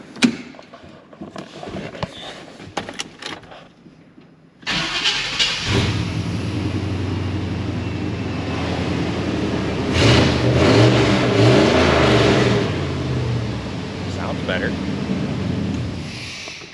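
A farm service truck's engine cranks and catches after ignition work, then runs with a steady, loud mid-pitched drone that swells briefly as it revs, following a few scattered clicks and handling noises.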